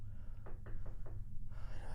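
Four soft knocks on a door at night, evenly spaced in quick succession, faint and slightly distant over a low steady background rumble.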